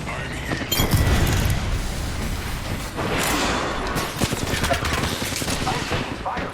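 Rapid gunfire in Apex Legends rattles in near, loud bursts over a continuous din of combat noise, with game voice lines heard beneath it.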